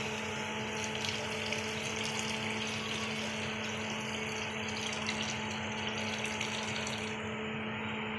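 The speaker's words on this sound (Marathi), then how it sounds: "तर 1 तांब्या ना पाणी टाकून घेणार आहे त्याच्यातून" Water pours from a pot into a pan already holding ghee and curd, while upit is being prepared. The pour is a steady, continuous rush lasting several seconds, with no voices.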